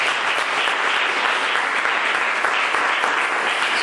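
Loud, dense applause from a church congregation during a sermon, a continuous even wash of many hands clapping at close range with no pauses.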